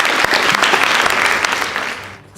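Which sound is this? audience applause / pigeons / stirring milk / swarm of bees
audience applause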